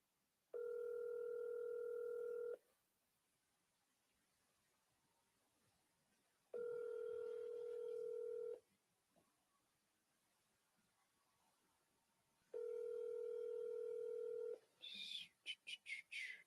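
Ringback tones from an outgoing call placed through a CRM dialer, three long steady tones separated by pauses, followed by a brief garbled burst at the end.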